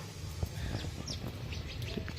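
House sparrows chirping while pecking at scattered rice after rain, faint scattered chirps over a steady background hiss.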